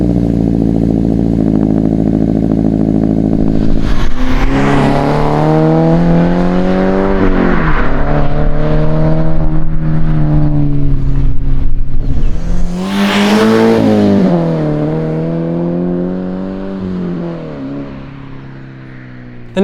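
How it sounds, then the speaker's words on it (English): Toyota GT86 / Subaru BRZ fitted with a Remark Boso Edition axle-back exhaust, idling with a deep steady burble before revving up in several loud rising and falling sweeps, close by, with no talking. "like this remarked Boso Edition Axleback that I had installed on my car a couple months ago."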